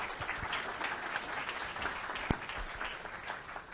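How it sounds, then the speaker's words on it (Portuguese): Audience applause after a computer vision talk at a tech conference: steady dense clapping from a crowd, fairly even throughout with one sharp louder clap near the middle, no voices. "Uma salva de palmas aí, pessoal."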